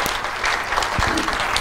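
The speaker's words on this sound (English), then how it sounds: "give a round of applause to all of them" An audience at a design lecture applauds. Dense, steady clapping from many hands lasts through the whole short moment at moderate distance.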